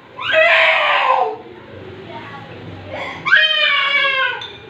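A child cries in two loud, wailing bursts separated by a quieter stretch with faint background sound, the second burst rising sharply and trailing off.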